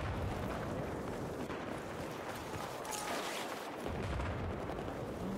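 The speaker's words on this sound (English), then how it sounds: "Mortar round coming inbound for us." Mortar rounds exploding in Battlefield 4, heard as a dense, continuous rumble of distant blasts and battlefield noise, fairly faint and steady, with no clear single impacts standing out.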